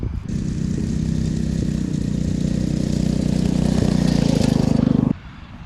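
A mini quad ATV powered by a Predator 212 6.5 hp engine runs steadily nearby with a loud, even chugging rumble and rattly clatter for about five seconds before cutting off abruptly.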